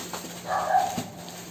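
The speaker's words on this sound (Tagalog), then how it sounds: "Pati yung aso namin excited din." An excited dog lets out a short whimpering yelp and a soft bark, close but fairly quiet against a low indoor hum.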